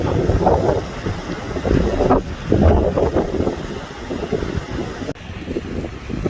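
Continuous rushing surf along Jeju's coast, with waves washing in and out under steady wind noise.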